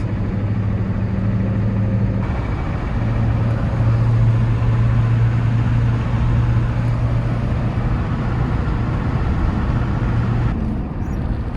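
Ford F250 with a 6.9 IDI diesel engine idling and running steadily, a loud, continuous low diesel rumble close by with no talk over it.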